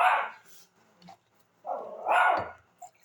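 A dog barks close by in two bursts, the second longer and rougher, with quiet gaps and a small yip in between.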